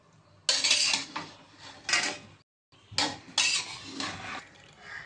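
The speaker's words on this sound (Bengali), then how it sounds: "এটা আমরা একটু নাড়িয়ে নিয়ে জিনিসটাকে আমরা প্রেসার কুকারে দমে বসিয়ে দেবো।" Biryani is stirred in a pot with two close bursts of metal spoon scraping and clanking, separated by a brief silence.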